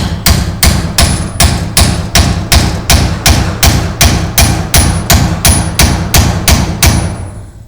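A steady run of about sixteen loud, evenly spaced hammer blows drives a leaf spring bushing tube through the spring eye, close up with no talking.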